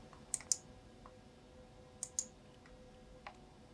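Sharp, quiet computer mouse clicks during setup on a Dell OptiPlex 790, coming in pairs: two close clicks early, another pair about two seconds in, then one fainter click, over a low steady hum with no talking.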